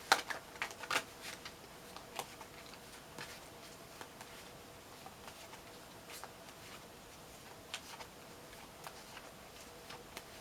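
Tarot cards are shuffled and pulled, with a quick burst of soft riffling clicks at the start followed by sparse, faint card taps and slides in a quiet room.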